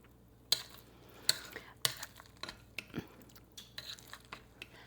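A spoon stirs a Frito corn salad in a bowl, giving close, soft crunchy scrapes and clinks in an irregular rhythm, with sharper clacks early on.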